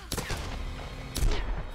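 Pistol shots ring out in the Tomb Raider video game, two sharp reports about a second apart over a steady game backdrop, with a voice talking faintly underneath.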